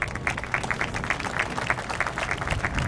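Audience applause at a St. Patrick's Day reviewing stand ceremony, a dense, steady patter of many hands clapping together that sustains evenly throughout without voices.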